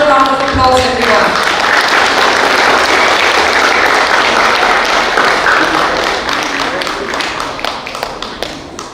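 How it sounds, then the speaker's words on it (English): An audience at an inter-college debate competition prize giving applauds a first-prize winner, sustained dense clapping that tapers off near the end, after a voice speaks at the start. "A louder round of applause, everyone."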